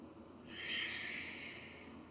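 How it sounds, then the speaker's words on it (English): Faint, high-pitched chirping birdsong swells in the distance over a quiet room, rising briefly then fading back. "Oh, I hear the birds."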